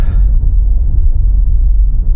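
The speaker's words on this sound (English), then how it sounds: "Romanian trucks. Single trailers, not road trains." Romanian trucks pulling single trailers rumble along a road, a loud, continuous low-pitched throb with no pauses or voices.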